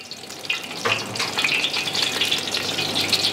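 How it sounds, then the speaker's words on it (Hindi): Green chilies frying in hot ghee, a close, steady crackle and sizzle with sharp pops and some stirring noise, no voices. "मिर्ची जो है हमारी फ्राई हो चुकी है"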